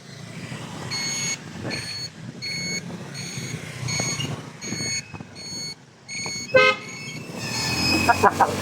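A car horn toots repeatedly on a night ride along a highway toward Tagaytay, with several short, evenly spaced honks over road and engine noise, then a brief burst of louder horn blasts.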